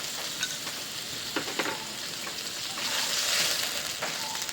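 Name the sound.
spices and ginger garlic cumin paste frying for egg curry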